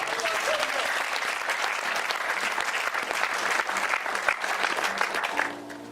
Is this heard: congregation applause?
yes